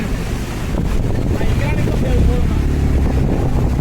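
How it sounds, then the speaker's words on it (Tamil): Flood water from the Puzhal Dam release rushes through Chennai during cyclone rains, a steady, broad wash of noise, wind buffeting the microphone, and faint voices underneath. "தண்ணி போகுது."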